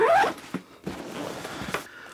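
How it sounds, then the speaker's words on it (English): A zipper on a camera bag is pulled closed in a quick, close rasp, followed by softer handling rustles and a few short zip strokes. "let me just zip this back up"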